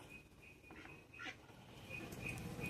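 Ducks quack faintly a few times in short nasal bursts against a quiet outdoor background.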